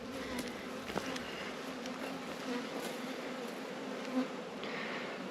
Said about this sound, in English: I think this may be the hive that swarmed.